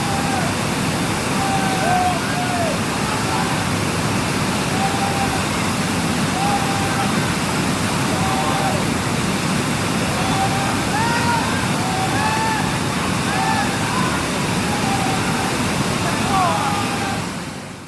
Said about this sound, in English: The idea here is to fight your way into the waterfall.